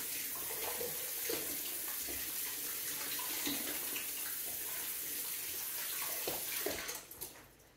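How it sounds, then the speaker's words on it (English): Tap water runs steadily into a sink as hands are washed quickly in a home kitchen during fish cake preparation, a constant close splashing with small shifts, ending in a few clatters as the flow stops. "Wash my hands quickly."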